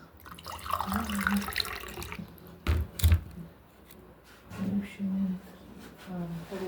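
Tap water runs in short bursts into a sink, splashing and gurgling, while people talk nearby between the flows.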